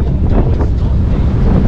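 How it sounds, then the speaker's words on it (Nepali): Strong wind buffeting the microphone near the water on a boat trip toward Manly Beach, Sydney, a loud continuous low roar with no breaks. "हावाले ठेलिरहेछ भन्दैछु."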